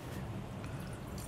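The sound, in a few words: water being poured for focaccia dough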